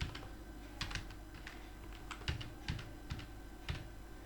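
Fingers typing an entry in Tally on a computer keyboard, producing quiet, irregular clusters of key clicks close by over a steady background hum, with nobody speaking.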